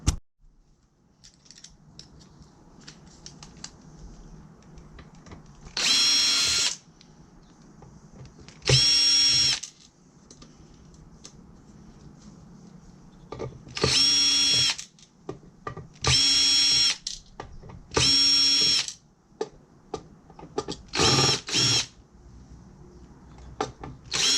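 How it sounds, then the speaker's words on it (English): Power screwdriver backing small Torx screws out of a remote radio unit during a teardown, whirring in about seven short loud bursts separated by pauses, with quieter handling noises between them. "Got some more Torx screws."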